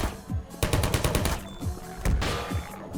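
Automated turret in Half-Life 2 firing rapid bursts of gunshots, close and loud, with a dense volley in the middle and shorter bursts before and after.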